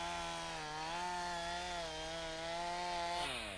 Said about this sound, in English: The development of the modern chainsaw was crucial for safety and efficiency.